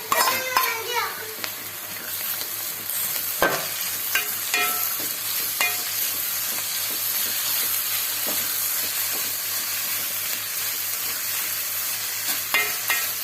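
Shallots tossed into browning onions in a pan for Kerala-style beef liver ularthu, a steady sizzle and fry with occasional stirring scrapes, while a voice and other talk run faintly in the background.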